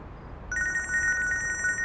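An electronic phone ring starts abruptly and trills in a rapid pulsing pattern, clear and close against a quiet background.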